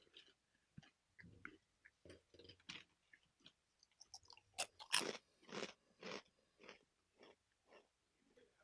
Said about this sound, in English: They're kettle cooked, so they're quite crunchy.